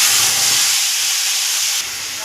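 A spice paste of green chilli, ginger, tomato, cumin and coriander hits a hot pan for cauliflower dalna, giving a loud, steady hissing sizzle close by that drops abruptly near the end.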